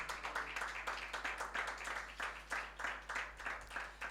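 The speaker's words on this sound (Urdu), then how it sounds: "یسوع مسیح کے لیے زوردار تالیاں بجائیں." A church congregation claps together in a steady, rhythmic beat, fast regular claps heard faintly over a low electrical hum, with no talk.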